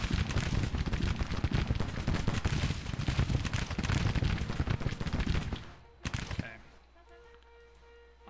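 Dense musket and rifle volleys in a Civil War battle video game, rapid crackling shots overlapping continuously for several seconds before cutting off, followed by quieter ambient battlefield noise.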